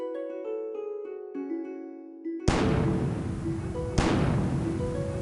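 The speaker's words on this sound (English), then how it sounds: "You get a fancy fireworks show" Fireworks sound effect played during a tabletop role-playing session, two loud booming bursts with crackling tails that follow a soft musical passage.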